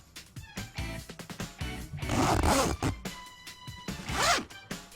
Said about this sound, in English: I pulled open the zipper on her bag only as far as I needed and stuffed the letter inside before immediately closing it tight